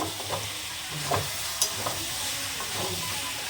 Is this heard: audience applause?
no